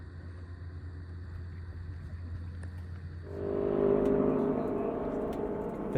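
A 1990 Mazda RX-7 with its small 13B rotary engine drones steadily from inside the cabin while driving, then swells into a louder, rougher buzz as the car accelerates partway through.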